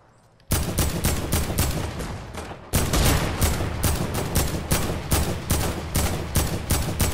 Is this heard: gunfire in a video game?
yes